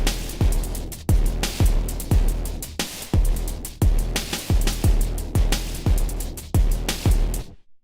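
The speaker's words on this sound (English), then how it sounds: "we're gonna make a beat that sounds like this" Electronic beat built in Ableton Live, with punchy deep kicks and snappy hits repeating in a steady loop, loud and close with no voices, cutting off abruptly at the end.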